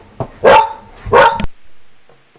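A dog in the medieval Kingdom Come Deliverance video game barks twice loudly and close, a sharp yip followed by two strong barks, then trailing off into a faint whimper.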